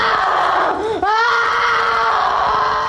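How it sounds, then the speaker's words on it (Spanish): A girl screams during a recorded exorcism, a loud, sustained, strained shriek that breaks and wavers midway into a raw, cracking cry, harsh and close throughout. "En la sala solo se escuchan los gritos de la supuesta posesa."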